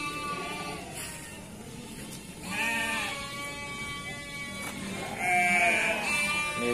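Sheep bleating at a livestock market in Banyumas, several drawn-out, wavering bleats spaced a couple of seconds apart over a low crowd murmur, fairly close.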